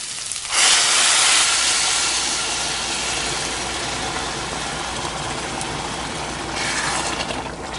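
Boiling water is added to a pot of lightly fried rice, a loud rush of hiss and bubbling that sets in sharply and then settles into a steady seething, heard close with no talk.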